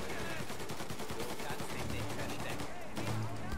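Faint, rapid bursts of gunfire in the Mafia remake video game rattle repeatedly throughout, like automatic weapons firing in quick succession.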